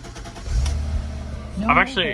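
A 2002 Audi A4 V6 engine cranks and catches near the start, settling into a low idle rumble, followed by a couple of short electronic chimes.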